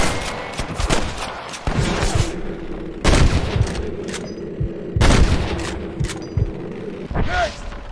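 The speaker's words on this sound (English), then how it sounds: "I can hear more gunshots." Gunfire in the Red Dead Redemption western game, several loud sharp shots in bursts a second or two apart, with booming echoes and faint mechanical clicks between them.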